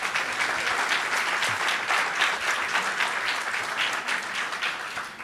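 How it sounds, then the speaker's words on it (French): A hall audience at the 2022 Fibois national timber awards applauds the building owner in a dense, steady round of clapping that holds for several seconds before tapering slightly. "je pense qu'on peut l'applaudir"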